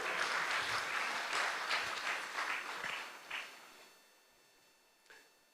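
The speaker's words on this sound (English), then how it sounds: "You can clap for me now," Audience clapping at a regional climate outlook forum, a dense round of applause that thins out and fades after a few seconds, ending with a couple of isolated claps.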